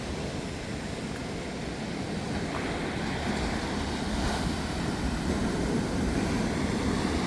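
Sea waves roll in steadily at Thanni Beach during high tide, a broad continuous surf wash close by with wind rumbling across the microphone throughout.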